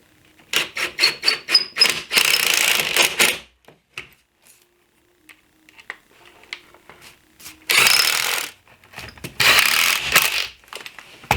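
Pocket hole screws, 1.25 inch, are driven into a wooden patio cooler base with a power driver in bursts of rapid ratcheting whir, close and loud, split by quiet pauses.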